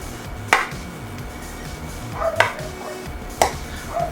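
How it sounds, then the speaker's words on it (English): A knife cuts a couple of air holes into the pastry lid of a chicken puff pie, giving three sharp, close taps against the dish spaced a second or two apart over a low background hum. "cutting in a couple of air holes"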